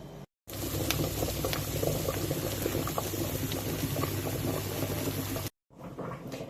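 Potatoes boil in a pot as a close, steady bubbling and gurgling that runs evenly for about five seconds between brief silent cuts, with no voices.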